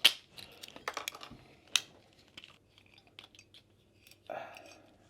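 The screw cap of a 2024 Louis Tête Beaujolais Nouveau bottle is twisted off: a run of sharp crackling clicks and small snaps, close to the microphone, spread irregularly over a few seconds with quiet gaps.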